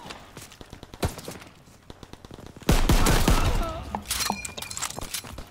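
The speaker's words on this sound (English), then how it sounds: "I was literally just shooting at somebody like from behind." Gunfire in a WWII shooter game: scattered single shots and short bursts at first, then a loud dense barrage of rapid fire with sharp cracks, continuing in sporadic bursts toward the end.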